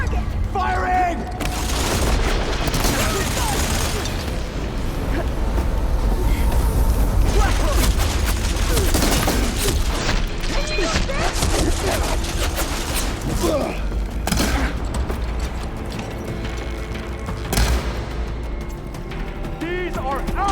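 Heavy weapons fire and explosions in Horizon Forbidden West keep up a loud, continuous barrage of booming impacts and bursts over twenty seconds, with voices shouting in the mix.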